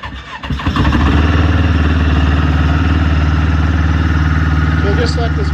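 A Yamaha Venture motorcycle engine catches and settles into a steady, loud idle while warming up, a rhythmic mid-pitched throb with light clatter holding throughout.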